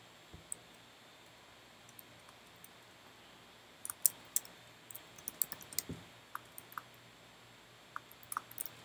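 Code being typed on a computer keyboard during a consumer API demo: sparse, scattered key clicks that pick up into quicker bursts partway through, close and quiet, with no one talking.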